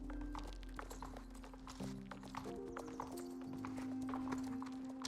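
Horse hooves clip-clopping in the Star Stable video game, a steady stream of light rhythmic hoof knocks over a sustained game music drone, close and even throughout.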